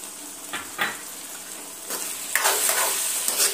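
Chili powder being stirred into a sizzling curry of radish and dried fish in a hot pan, with a steady fry hiss and a few louder bursts of scraping and sizzle as the spoon works through.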